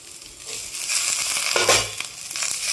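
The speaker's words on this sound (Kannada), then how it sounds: "ಇದೆಲ್ಲ ಚೆನ್ನಾಗಿ ಹಸಿ ವಾಸನೆವರೆಗೂ ಫ್ರೈ ಮಾಡ್ಕೊಳ್ಳೋಣ" Banana flower frying in a pan with dried chillies and curry leaves, giving a steady close sizzle with crackling and a few stirring scrapes, no voices.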